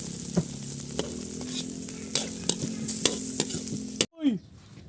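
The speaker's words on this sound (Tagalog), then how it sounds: "Lagyan natin ng dilis ang ating ginataang puso" Anchovies go into a pan of coconut-milk banana blossom stew, which sizzles steadily with sharp clinks and scrapes of a utensil against the pan, ending in a brief squeaky scrape after a moment of quiet.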